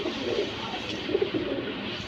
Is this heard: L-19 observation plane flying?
no